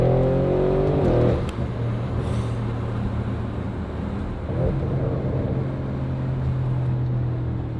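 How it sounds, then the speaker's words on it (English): An Audi RS7 with a Valvetronic Designs exhaust and Unitronic sport-cat downpipe roars under throttle, its loud, close engine note rising and then holding as a steady drone with a brief dip partway through. "Then when you're on throttle, the hard blare comes out."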